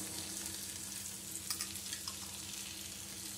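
Schezwan and chili sauce frying and being stirred in a pan for schezwan fried rice, a soft steady sizzle with a few light spoon taps and scrapes, close and fairly quiet with no talking.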